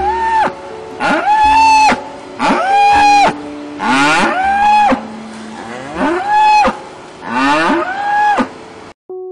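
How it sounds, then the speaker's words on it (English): A mother dairy cow separated from her calf moos repeatedly, about seven long, loud, close calls in a steady rhythm with short pauses between them. "Mother cows call for their babies for days after separation."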